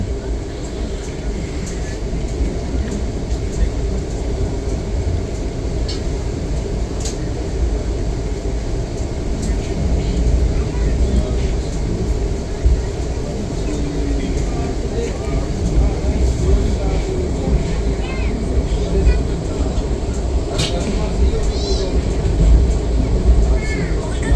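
An ICF express train hauled by a WAG9 locomotive runs at speed, heard from on board: a continuous loud, low rumble with wheel clatter and rattling carriages, and faint voices now and then under the roar.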